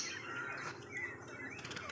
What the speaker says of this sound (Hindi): ये परिंदे जब मैं वीडियो बना रहा हूँ ना तब तो इन्होंने ऐसे डर जाना होता है